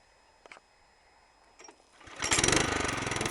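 A couple of clicks, then a motor cultivator's small engine catches and runs loud and close with a rapid, rattling putter.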